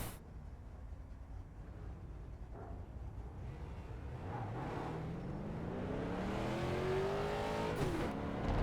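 Street stock race cars idling and rolling off at the Charlotte Roval in iRacing, a steady low engine rumble with a rising harmonic whine as one car begins to accelerate, close and continuous with no talk.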